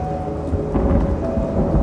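A low, continuous rumble of thunder rolls on under a steady wash of rain, swelling slightly midway.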